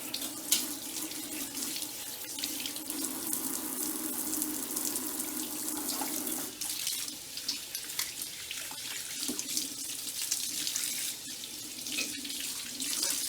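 Celery stalks rinsed under a running kitchen tap, a steady continuous rush of water hitting the sink with small splashes and shifts in flow throughout, close and fairly loud, no voices.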